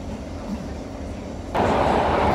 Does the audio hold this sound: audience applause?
no